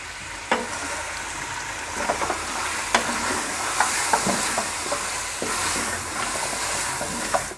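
Mutton frying with ginger garlic paste over a high flame for shahi korma, a loud, dense sizzle broken by repeated clinks and scrapes of a spoon stirring close by.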